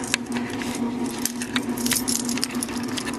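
Keys jangling close by, a dense run of bright metallic clinks and rattles over a steady low hum, with no talk.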